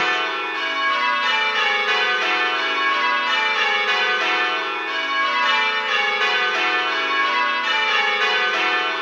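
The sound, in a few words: church bells rung in rounds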